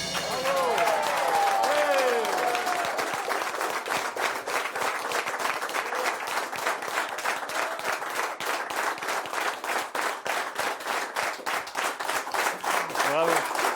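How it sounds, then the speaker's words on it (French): A crowd at a farm dinner prize-giving applauds a first-prize winner with loud rhythmic clapping that settles into a steady beat, while voices and cheers rise briefly near the start. "Je vous prie d'applaudir Stéphane."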